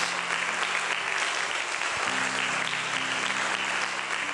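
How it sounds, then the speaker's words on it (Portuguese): A church congregation bursts into applause for the Lord, a full, steady clatter of many hands from start to finish, with a low hum underneath. "Aplauda ao Senhor!"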